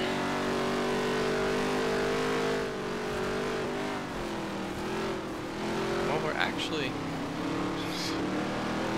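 Race car engines from the NASCAR Heat 3 video game drone steadily at Jefferson, a continuous loud engine tone with pitch shifts as the cars run the course.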